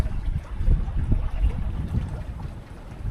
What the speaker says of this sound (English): So now just the sound of the water rushing and the rigging rattling.